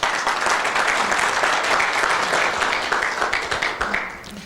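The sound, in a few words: audience applause for Pak Roy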